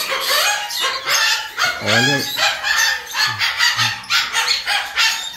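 Ring-necked parrot imitating a chicken's clucking and crowing and a dog's barking, loud and close in quick repeated calls, with a brief spoken word from a person.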